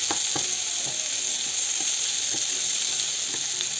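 Sliced onions and bell peppers fry steadily in a pan, giving a continuous bright sizzle with occasional soft stirring clicks and scrapes, close and fairly loud, with no talking.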